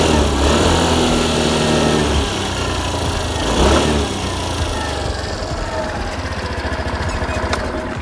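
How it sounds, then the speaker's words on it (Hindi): A Suzuki Burgman Street BS6 scooter engine runs close by, loud and steady, with a rev swell midway before settling into a rapid, even putter. "एग्जॉस्ट नोट पहले से ज़्यादा रिफाइंड अब साउंड कर रहा है।"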